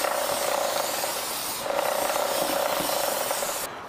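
A 250 YZ dirt bike's clutch bell being scrubbed clean, giving a steady close rubbing rasp that runs for several seconds before dropping off at the end.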